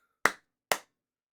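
Two single hand claps, close and sharp, about half a second apart, each with a short decay into silence.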